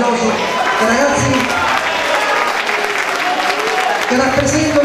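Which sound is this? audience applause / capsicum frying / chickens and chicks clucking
audience applause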